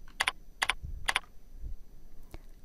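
Typing on a computer keyboard, three quick pairs of sharp clicks followed by a fainter final tap, close and clear in a quiet room.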